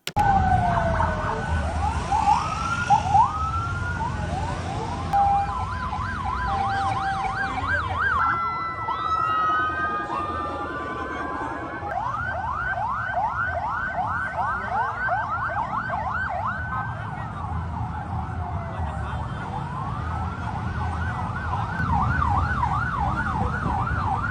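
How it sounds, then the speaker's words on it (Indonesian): Ambulance sirens wail at the scene of a bus crash involving vocational school students in Subang, with several overlapping sirens rising and falling and switching to fast yelping patterns, loud and continuous over traffic noise for over twenty seconds. "sejumlah ambulan dari Depok juga dikerahkan untuk mengevakuasi korban meninggal dunia dan juga korban yang mengalami luka-luka"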